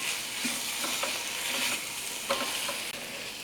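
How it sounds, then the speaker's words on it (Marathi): Spiced boiled potato pieces stirred and sautéed in a hot pan, giving a continuous close sizzle with soft scraping strokes of the spoon and no voices. "दोन मिनिट मी हे सगळं परतून घेतलं आहे हा मसाला छान बटाट्याला कोट झाला आहे"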